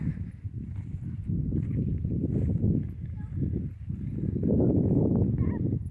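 Muffled hoofbeats of two mares clomping on soft ground, irregular and close, under a steady murmur of voices.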